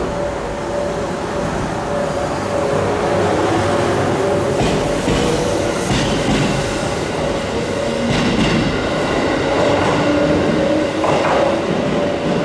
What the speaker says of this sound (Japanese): 峠駅8時34分発の米沢行きが出発しました